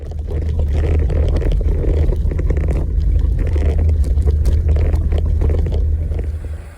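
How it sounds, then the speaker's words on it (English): Steady close rumble of a motorcycle engine mixed with heavy rushing wind noise while riding, a continuous roar with no talking. "We'll go for a ride on my bike."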